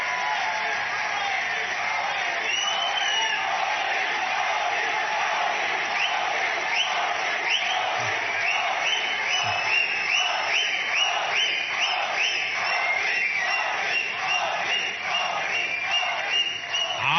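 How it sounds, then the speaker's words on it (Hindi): A large crowd of Indian diaspora at a prime ministerial address in Nigeria claps and cheers loudly, a dense, sustained roar of applause and shouting that continues steadily throughout. "आपने ताली तो बजा दी,"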